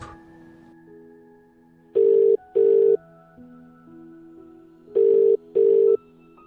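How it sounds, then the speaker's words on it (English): Telephone signal tones: two pairs of loud, steady electronic beeps, each pair a quick double pulse, separated by a pause over a faint hum. "What if my phone will ring, but I won't pick it up?"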